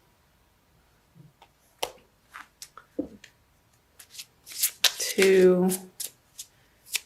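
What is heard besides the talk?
shuffling a deck of oracle cards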